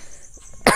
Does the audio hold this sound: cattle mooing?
no